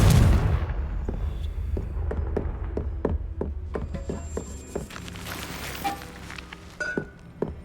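Confringo fire spell blasts in the video game Hogwarts Legacy, opening with a heavy booming burst followed by a run of sharp, crackling magical impacts and clinks fading over several seconds.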